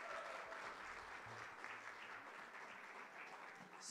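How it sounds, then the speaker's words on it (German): A church congregation applauds during a Sunday service, a steady, even clatter of many hands that carries on throughout without pause. "Give applause to them."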